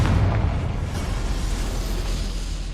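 A Confringo fire spell bursts in Hogwarts Legacy, a loud blast that opens sharply and then gives way to a sustained roaring, crackling rumble. The heavy low-end rumble continues through the whole stretch with no speech over it.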